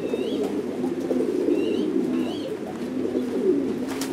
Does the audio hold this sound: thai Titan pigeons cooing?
yes